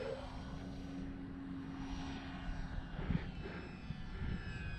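Strong wind blows steadily outdoors in an open flying area, a constant broadband roar with gusty swells that stays loud and unbroken throughout.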